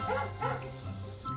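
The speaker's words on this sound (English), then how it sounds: "That's a dog." A dog gives a few short yipping barks with whimpery edges, three quick bursts spaced across a second and a half, close and clear with no voices.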